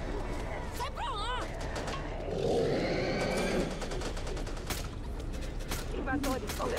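Rapid machine gun bursts and scattered gunshots from the zombie shooter game Back 4 Blood crackle through a busy combat mix, with a voice speaking over the firing.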